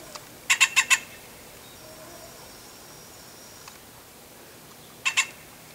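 Grackle giving a burst of four loud, harsh squawking calls near the start, then two more a few seconds later, outdoors in a park with a hummingbird nearby, over quiet background.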